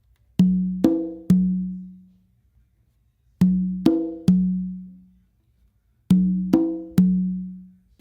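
Three sharp ringing conga strokes closing a bolero pattern, the last an open tone on the tumba, heard as a short group of three, then repeated twice more with pauses between, alone and close.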